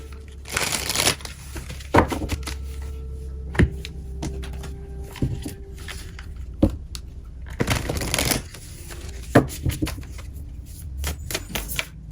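Decks of tarot cards are shuffled by hand, with bursts of riffling and sharp slaps and taps between quieter handling, close and alone.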